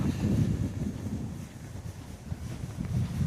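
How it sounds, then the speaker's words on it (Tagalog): Strong, cold wind buffets the microphone in a constant low rumble that rises and falls, with no voices. "Yan, sobrang mahangin."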